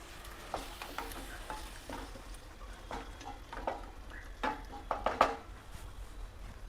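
Water with crushed chilli and garlic poured into frying spices in a pan, giving a soft steady sizzle with scraping stir strokes and a few louder bursts toward the end.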